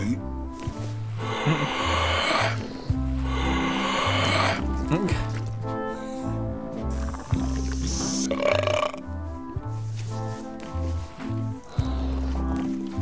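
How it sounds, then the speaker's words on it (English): A burping contest in the video game Return to Monkey Island, with several long, loud, gurgling belches taking turns against a bouncy musical score. "They're excellent for burping contests."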